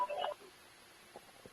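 Touch-tone dialing from a phone line joining a conference call, a short cluster of tonal beeps at the start followed by a couple of faint blips, fairly quiet with no talk.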